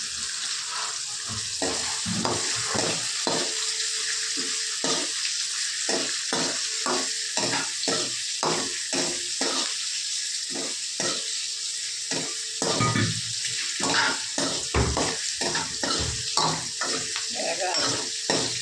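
Semolina dry-roasting in a pan for upma while being stirred, giving a steady run of close, rhythmic scraping strokes over a soft, continuous sizzle.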